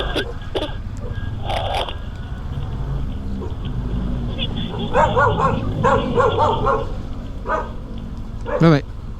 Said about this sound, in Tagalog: Huwag mo hawakan yung aso, baka kagating kayo ha.